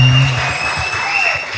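An audience claps to welcome a pastor from Righteousness of God Ministry church in Lare, a brief burst of steady applause with voices under it.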